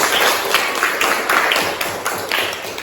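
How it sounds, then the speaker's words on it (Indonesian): A group of people clap in a sustained round for a student group during a teacher professional-program session, steady dense applause filling the room with no talk over it. "kita beri tepuk tangan sekali lagi"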